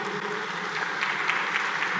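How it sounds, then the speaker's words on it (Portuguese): A church congregation applauds workers who have served 25 years or more, a steady wash of many hands clapping together at moderate volume with no voices over it. "Eu quero uma salva de palmas aqui para esses que já atingiram"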